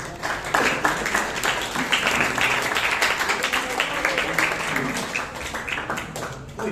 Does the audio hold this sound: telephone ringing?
no